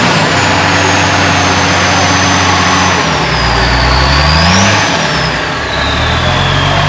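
A Mud Rhino utility vehicle's engine revs loudly and close, pitch climbing and falling in surges over a sustained throaty drone.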